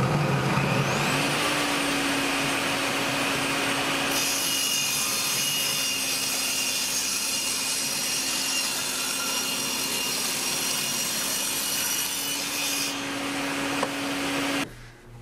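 A circular saw cuts through chipboard: the blade spins up, bites into the board for roughly ten seconds with a steady rasping whine, then runs free and winds down, loud and close with no talk.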